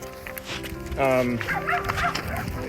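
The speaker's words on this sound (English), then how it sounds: "Baby Snuggles is Jeff's dog there" A dog yips and whines in short high bursts close by while a person talks over it.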